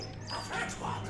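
A dog in the Valiant Hearts video game gives a short run of quick, yippy barks with a slight whimpering edge, close and clear over a low background hum.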